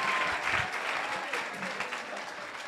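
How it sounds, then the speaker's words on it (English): Sustained crowd applause at a student lecture Q&A at a university, many hands clapping steadily at moderate loudness throughout, thinning slightly toward the end. "Give her a round of applause."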